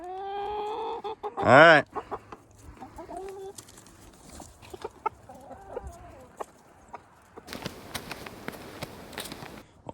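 Farm chickens clucking over an oat treat: a loud squawk early on, then scattered soft clucks and sharp pecking taps at close range, with a few brief spoken words.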